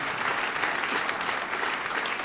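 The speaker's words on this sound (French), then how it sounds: "Et applaudissez une dernière fois le Roi des Rois." A church congregation breaks into steady, dense applause, loud and sustained throughout with no break.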